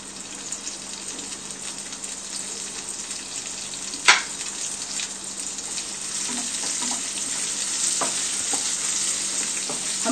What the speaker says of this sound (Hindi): ये सबसे पहले हम प्याज इसमें भूनने रखेंगे।